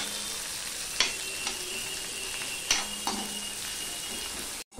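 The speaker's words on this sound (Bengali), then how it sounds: "পেঁয়াজটাও আমি লাল লাল করে ভেজে নেব" Onions fry with panch phoron in a pan, giving a steady, bright sizzle broken by a few clinks and scrapes as they are stirred, with no talk and an abrupt cutoff near the end.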